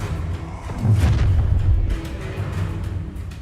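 The Incendio fire spell is cast in Hogwarts Legacy, producing a deep, booming whoosh that swells for about a second and then fades into a lower rumble.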